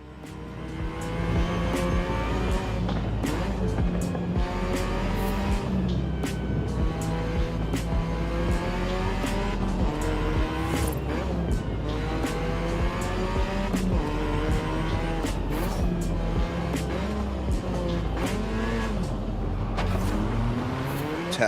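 A race car in the F1 25 video game revs hard and rises in pitch across repeated shifts while tires squeal through a handbrake skid, loud and continuous for about twenty seconds, with no speech.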